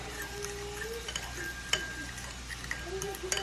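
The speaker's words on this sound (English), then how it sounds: "So I am just going to mix this all together." Seasoned ground meat with black pepper and red pepper flakes being stirred and mixed, with quiet, continuous scraping and a few light clicks of a utensil against the bowl or pan.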